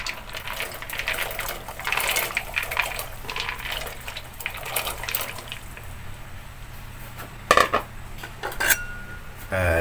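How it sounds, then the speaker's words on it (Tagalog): Dry macaroni pasta pours and clinks into a metal pot of hot vegetable soup broth, rattling and scraping in uneven bursts with a couple of sharper knocks near the end, close by. "So ilalagay na natin yung macaroni."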